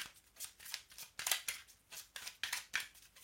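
A deck of tarot cards being reshuffled, with a run of quick, papery riffles and soft slaps coming in uneven bursts at close range, and no one talking.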